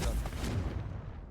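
A Confringo fire spell going off in Hogwarts Legacy, a short loud booming blast with a bright crackling burst up front that quickly decays.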